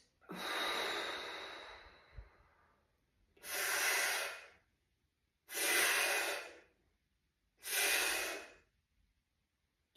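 Four long, loud breaths come close to the mic, separated by short pauses, taken during a core fascial twist exercise; each one rushes in and fades out with no talking.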